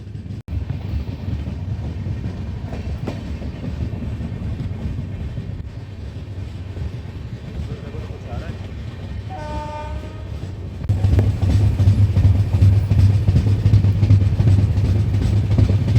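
A loud train runs near Kasaragod railway station on the Goa to Kerala line, with a steady rolling rumble and clatter, then a horn blast sounding over the running noise as the train grows louder and closer.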